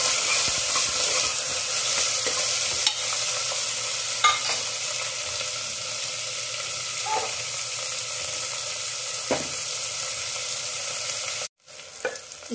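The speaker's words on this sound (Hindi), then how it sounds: "तेल जब गर्म हो जाए तब हम इसमें दो प्याज डाल देंगे। इसे अब चलाएंगे।" Two onions frying in hot oil and being stirred, a loud close sizzle with spatula scrapes, cut off abruptly near the end before a brief return.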